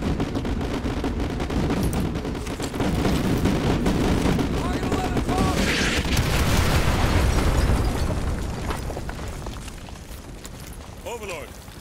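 Artillery explosions in Call of Duty Modern Warfare 2 Remastered, a long run of heavy rolling booms and bursts layered over continuous battle noise, swelling in the middle then fading, with radio voices talking over it.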